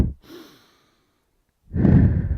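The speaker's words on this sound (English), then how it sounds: "we might take a breath in and breath out as we open up the" Audible breathing during a standing and floor pilates hip exercise: a soft exhale fading out, a pause, then a fuller, louder breath close to the microphone.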